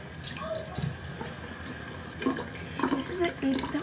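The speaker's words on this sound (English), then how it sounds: "Then you turn on the water, and you get the rest of it off." Water runs from a bathroom tap while hands are rinsed during a night skincare routine, a steady close hiss with brief splashes and bumps near the end, no talking over it.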